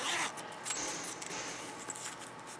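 Zipper head being jiggled onto zipper coil with a fork, small scratchy clicks and faint metallic rattles close by, soft and irregular over light background noise.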